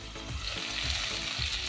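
Vegetables for a Malabar spinach curry sizzle steadily in a hot pan, a continuous close frying hiss with faint stirring scrapes, and no voices.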